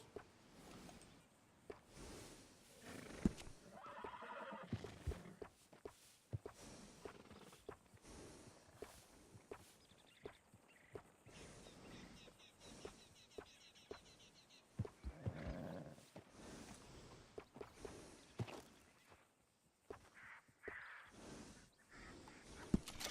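A horse in Red Dead Redemption 2 whinnies and its hooves clop over a busy, layered game soundscape, with the sounds rising and falling across the scene.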